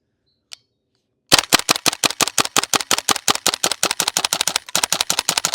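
A GHK G5 airsoft rifle fires BBs in one long full-auto string of sharp, evenly spaced cracks, loud and close, after a brief near-silence with one faint click.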